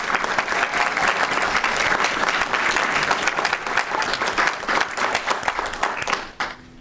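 A school board meeting audience applauds its Olympians with a full, dense round of clapping that holds steady before tapering off sharply near the end.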